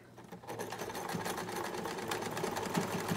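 A sewing machine stitches a cloth mask and then tacks back, running in a fast, steady, even whir that is close and fairly quiet, with no talk over it.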